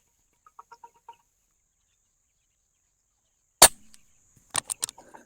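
A Pak-made air rifle shooting MHF pellets at 100 yards fires one sharp, loud shot, then after a short pause a quick cluster of snappy cracks and impacts, in a quiet outdoor setting.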